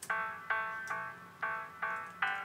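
Repeated synth notes run through the old-telephone preset of FL Studio's Fruity Parametric EQ 2, thin and narrow-banded like a phone line, six evenly spaced tones with clear decays and no voices.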